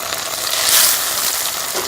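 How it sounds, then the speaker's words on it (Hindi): Potato and egg kebabs sizzle in hot oil in a wok over medium heat, a steady broadband frying hiss that swells slightly midway and continues without talk. "हमारा ऑयल गर्म हो गया और इसके अंदर हम ये कबाब को फ्राई कर लेंगे।"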